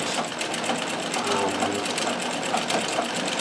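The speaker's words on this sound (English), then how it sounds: "it's a little noisier, of course, because I do have the walking foot on." A Riccar 570 sewing machine fitted with a walking foot runs steadily, stitching a narrow hem in stretch fabric with a continuous mechanical whir and rapid needle clatter, fairly loud and close throughout.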